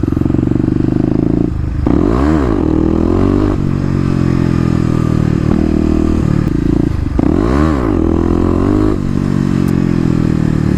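A Kawasaki KLX250 motorcycle, ridden up on its back wheel in second gear, drones loudly and steadily, rising into two sharp revving swells as the throttle opens.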